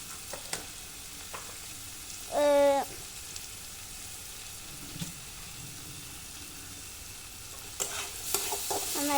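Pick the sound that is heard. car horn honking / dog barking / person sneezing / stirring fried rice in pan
stirring fried rice in pan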